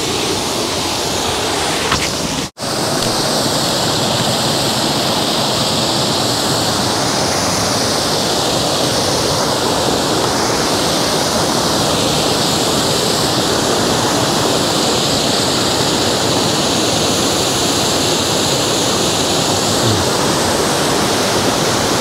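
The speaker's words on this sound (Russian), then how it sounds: "Ух, слушай, неплохой водопад." A steady, full rush of water falling over a man-made waterfall with several rapids in Abkhazia roars continuously, close and loud, with no voices, after a brief dropout near the start.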